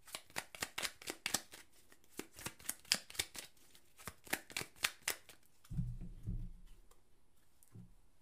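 Tarot cards riffled and shuffled in a rapid run of crisp clicking flicks, then a soft thud and slide as a card is drawn and laid down, quiet and close with no talking.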